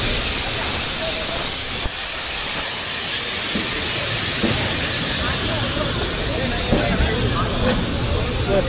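A crowded Indian passenger train moves slowly along a station platform, producing a continuous loud rumbling hiss and clatter mixed with crowd noise and shouting voices from people around it.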